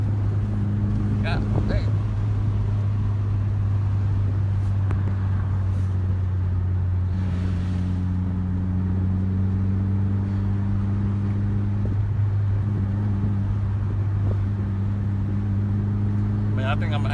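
A 500-horsepower Evo engine warming up cold, a steady low idle drone with a faint higher tone running underneath, heard close, while someone talks over it now and then.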